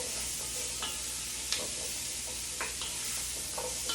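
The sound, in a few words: sautéing in a Dutch oven for pot roast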